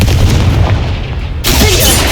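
A Confringo blast spell exploding in Hogwarts Legacy, a loud, rumbling boom that sustains for over a second before a second sharp, bright burst hits and roars on.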